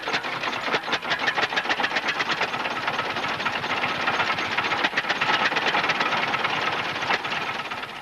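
An old International Harvester farm engine runs steadily close by, with a continuous chugging, hissing drone and a rapid mechanical pulse that holds at the same level throughout.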